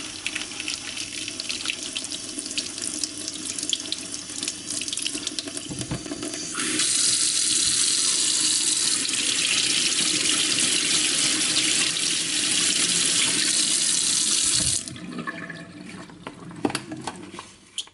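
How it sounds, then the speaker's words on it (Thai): Makeup brushes rinsed under a running kitchen tap, water gushing steadily and loudly into the sink for several seconds, with lighter splashing and handling before and after. "ล้างน้ำสะอาดให้เยอะๆหน่อยอะคะ่ะ"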